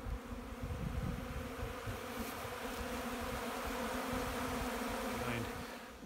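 Honeybees buzz steadily around the hives during an inspection, a dense continuous hum close to the listener with many overlapping wingbeats and no speech.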